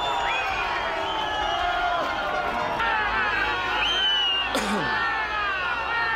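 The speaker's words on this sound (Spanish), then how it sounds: "ha sido recibida, como van a ver, con abucheos, con gritos y con la protesta de los camioneros" A large outdoor crowd of protesting truck drivers shouts, whistles and jeers continuously, with overlapping voices and a sharp whistle rising above the noisy din.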